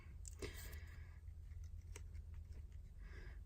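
Quiet snips of scissors cutting cardstock for a kinetic die space dragon card, a few short crisp cuts close by over a low steady hum.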